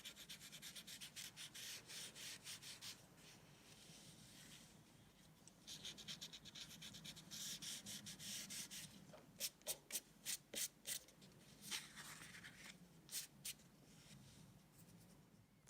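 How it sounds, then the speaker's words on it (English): A tortillon smudges pencil shading on paper, a soft continuous rubbing and scratching that turns into quick repeated strokes partway through, close and quiet with no talking. "My handy dandy tortillon just to smudge out the excess"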